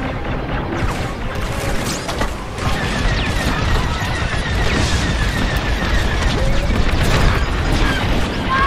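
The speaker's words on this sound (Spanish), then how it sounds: "Le están cayendo disparos a esto." Gunfire pelts a starfighter in Star Wars: Squadrons, with dense rattling impacts, booms and mechanical clatter over a constant engine roar, continuous and loud.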